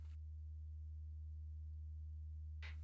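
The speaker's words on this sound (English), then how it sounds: "let's bring back that sine wave from our Sputnik dual oscillator again" A steady low sine tone from a Sputnik dual oscillator, shaped through a slope generator, drones continuously and evenly at moderate level, with brief clicks at the start and end.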